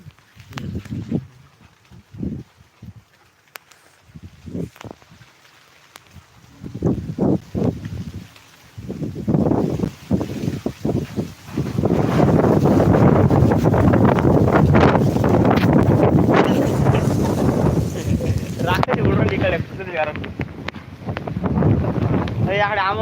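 Strong wind blows during rainfall on a hillside, buffeting the microphone in gusts that swell into a loud, continuous roar for the second half.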